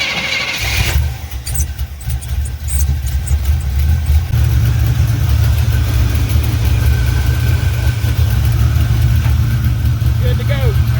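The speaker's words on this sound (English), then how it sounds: "I'm just gonna give it a little idle" A 1986 Chevrolet C10 pickup engine idling close by with a loud, steady low rumble that persists throughout after a brief rev at the start, with a voice talking over it.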